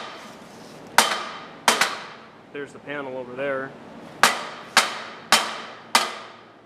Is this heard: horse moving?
no